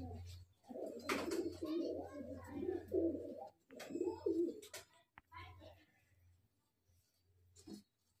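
Pigeons of high-flyer breeds such as Madrasi and Giribaz coo in soft repeated rolling phrases, several bursts close by, with a quieter stretch near the end.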